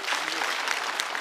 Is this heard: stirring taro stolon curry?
no